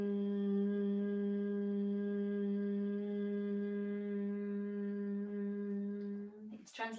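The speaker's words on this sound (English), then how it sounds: "It's that buzzy breath. So it's a vocal buzz that generates this really awesome energy" A steady humming buzz from a human voice doing brahmari breath, a yoga breathing practice, holding one low pitch for about six seconds before it breaks off into a short breathy inhale at the end.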